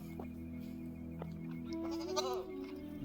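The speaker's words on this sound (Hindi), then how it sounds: "बकरी की आवाज़ आ रही है," A goat bleats from inside a cage at night in the Uttarakhand forest, one wavering, nasal call rising and falling near the end over a low steady background hum, fairly close and moderately loud.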